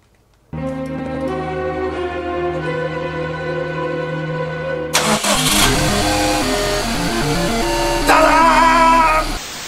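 A Subaru engine cranks and catches with a loud, sudden start, then settles into a steady, even idle with a brief rev, no talking over it.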